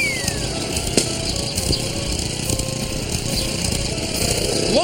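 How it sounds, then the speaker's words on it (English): A small gasoline lawn mower engine drones steadily at a distance, with a constant buzzy hum and no speech. "Lawnmowers make a lot of air and noise pollution."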